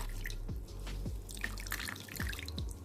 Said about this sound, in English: I'm going to be using a chiffon cloth to sieve to get the tiger nut milk